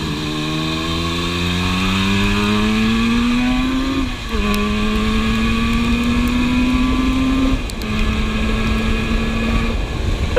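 A classic two-stroke motorcycle ridden on a wet, slick road, its engine buzzing close and loud, climbing in pitch through the gears with brief dips at shifts, no voices.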